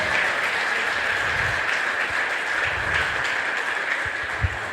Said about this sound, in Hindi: सबसे जोरदार तालियों से स्वागत करते हैं हम नए बहन भाइयों का। जोरदार ताली।